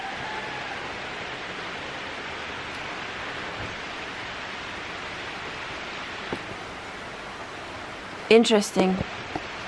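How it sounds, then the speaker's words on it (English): Steady, soft hiss of rain falls continuously, a broad even wash of sound; someone speaks briefly near the end. "I like the sound of the rain."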